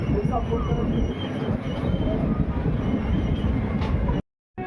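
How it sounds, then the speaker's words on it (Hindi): Dayodaya Express train running between Ajmer and Kota as it rounds a right-hand curve: loud continuous wheel roar and rattle with faint high squeal, cutting out abruptly near the end. "ट्रेन कर्व होना स्टार्ट हो गई है राइट साइड की तरफ।"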